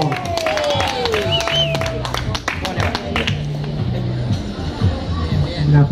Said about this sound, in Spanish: Fuerte el aplauso para Chile.